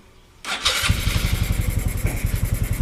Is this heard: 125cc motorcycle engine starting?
yes